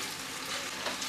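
Potato pieces and peanuts fry in a pan for a fasting-day potato dish, a soft, steady sizzle that stays faint and even throughout a short moment.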